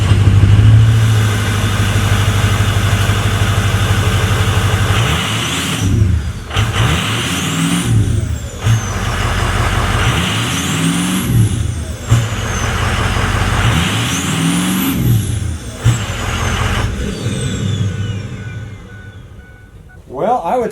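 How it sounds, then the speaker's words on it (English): A Ford 6.0 liter Powerstroke diesel truck with an upgraded aftermarket exhaust idles, then revs up repeatedly, each rise carrying a rising turbo whine before dropping back, close and loud. "I can hear more turbo whine now than stock"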